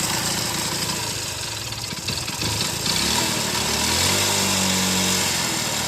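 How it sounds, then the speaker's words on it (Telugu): Worn-out motorcycle engine running with a rough, continuous mechanical clatter, fairly loud and close, with the tone shifting and rising slightly partway through as the revs change; no voices. "టోటల్ ఇంజన్ పోయిన బండి సౌండ్ అనమాట ఇది."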